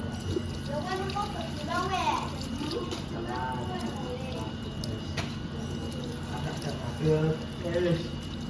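A tap runs steadily into a sink as third-grade children practise handwashing in a school lesson, a constant close rush of water under overlapping voices that talk throughout.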